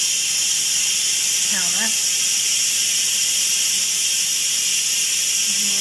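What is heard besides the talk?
steam releasing from Instant Pot quick release valve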